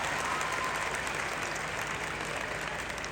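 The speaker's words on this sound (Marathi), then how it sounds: "एकदा जोरदार आपल्या बापासाठी टाळ्या हो द्या" A large audience at a motivational speech claps together in sustained, dense applause, loud and close, with no voices over it for the full three seconds.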